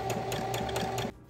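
A sewing machine stitches a garment seam in a quick, steady mechanical rhythm of needle strokes with a motor whir underneath, close and fairly loud, then stops abruptly near the end.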